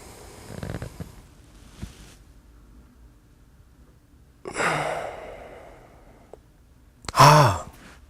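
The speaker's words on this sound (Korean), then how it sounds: "최대한 깊게 숨을 들이쉬게 됩니다" A slow, deep inhale and a long exhale, close to the microphone, follow a quiet start, with a brief sharp breath near the end, guided during a breathing exercise.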